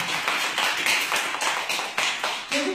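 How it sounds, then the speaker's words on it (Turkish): A small group of children claps in a scattered, uneven burst after a stone-gathering game in a classroom, the quick slaps close and steady for a few seconds. "Bana bir alkış."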